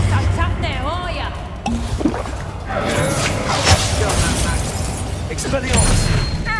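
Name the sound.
Reductor curse blast in Hogwarts Legacy video game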